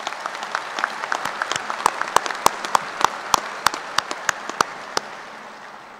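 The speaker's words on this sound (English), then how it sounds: "Please join me again in a round of applause for the marshals." A graduation commencement audience at Kansas State University applauds, with dense clapping that swells and then slowly thins as a few loud, close claps stand out over the crowd.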